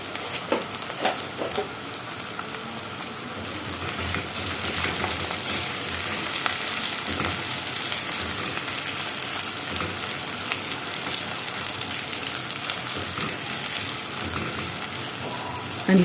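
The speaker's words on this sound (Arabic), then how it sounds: "هنفضل بقى نقلب فيه علشان خاطر كله ياخد لون واحد وكمان يديني القرمشه بتاعه البصلات" Onions sizzle and fry in a pan for koshari, a dense, continuous crackling hiss with stirring scrapes throughout, loud and close with no talk.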